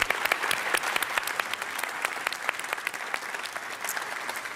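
A festival audience in a large hall applauds speakers and moderators, a steady spread of crisp individual claps at moderate distance with no voices over it.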